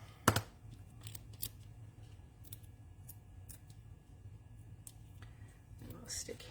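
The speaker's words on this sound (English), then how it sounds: "There go the scissors again." Scissors snip paper while making toadstool recipe cards, with one sharp close cut at the start followed by faint, scattered snips over a quiet background hum.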